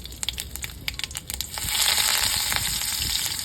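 Mustard seeds crackle and pop in hot oil in a rapid burst of close, sharp snaps, then green chillies go in and the sound swells into a louder, continuous sizzle.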